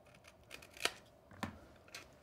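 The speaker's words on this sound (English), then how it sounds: "Same thing, just cut on an angle." Scissors cutting a paper template at an angle for a shadow box craft, a few quiet, close snips and rustles of paper spread over a couple of seconds.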